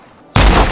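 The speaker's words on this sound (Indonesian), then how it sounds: "Alex ditembak tepat di bagian belakang kepala oleh Johnson" A single sudden gunshot in an action film, one sharp loud blast that jumps out of near-quiet and leaves a heavy, booming tail ringing on afterward.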